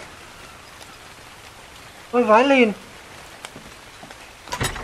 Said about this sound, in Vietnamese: trời mưa nữa đỡ hơn tí rồi